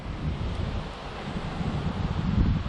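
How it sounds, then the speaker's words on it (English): Strong wind whipping through trees outdoors, a steady loud rushing roar with gusty swells and buffeting on the microphone, no talk. "Listen to that wind whipping through here."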